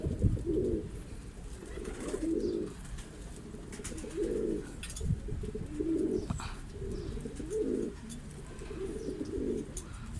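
Deep, repeated cooing of an Akbaş pigeon, about six soft phrases spaced a second or two apart over steady background noise.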